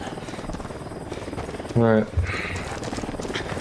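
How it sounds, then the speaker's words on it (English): A helicopter lifts off in the video game Ghost Recon Wildlands with a rumbling rotor drone and a sudden loud burst partway through, mostly under players talking over voice chat. "When we take off in this helicopter, we have to be quick."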